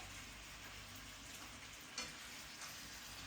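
Pork ribs sear in a frying pan with a steady, close sizzle and crackle of hot fat, fairly quiet overall, with a single brief clatter midway and no talking.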